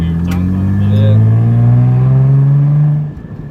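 A Nissan 300ZX with a straight pipe exhaust revs hard and close, a loud sustained engine drone climbing in pitch before dropping off abruptly near the end.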